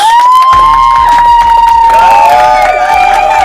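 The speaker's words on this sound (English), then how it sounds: "Those are the fans still clapping from the parade." A crowd of football fans claps and cheers after a Seahawks parade, loud and dense, with a long whistling tone riding over the steady din throughout.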